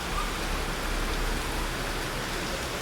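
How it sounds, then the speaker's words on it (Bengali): Steady, even hiss of rain falling in Dhaka, constant and moderately loud with no breaks or voices. "ঢাকায় প্রশান্তির বৃষ্টি শুরু হয়েছে।"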